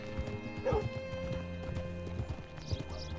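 Horse hooves clip-clop steadily in Red Dead Redemption 2, a repeated rhythmic clopping at close range over a constant low musical drone, with a brief whinny partway through.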